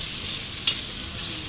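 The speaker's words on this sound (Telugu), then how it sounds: "మంచిగా పసుపు పచ్చివాసన పోయేదాకా కలుపుకోవాలి." Turmeric stirred into onions frying in oil for a mutton curry, a constant close sizzle with one sharp utensil click against the pan, and no voices.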